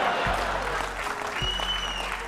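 Audience applause at a live motivational talk, a dense, steady clapping that fills the whole moment, close and fairly loud with no voice over it.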